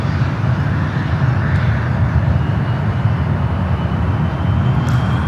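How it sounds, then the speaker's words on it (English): Boeing 777-300ER jetliner taking off at San Francisco International Airport, a loud, continuous rumbling engine roar with broad noise and no breaks. "Flight 7 is just taking off there, heading to Tokyo Narita in that 777 at 300 ER"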